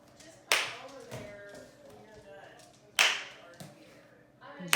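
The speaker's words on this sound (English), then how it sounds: "Try the toss, clap, catch challenge." Two sharp, loud hand claps about two seconds apart during a kids' toss-clap-catch ball game, each followed by softer thuds of the ball being caught, with a voice in the background.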